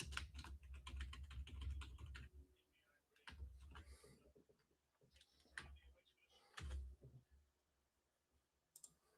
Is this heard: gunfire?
no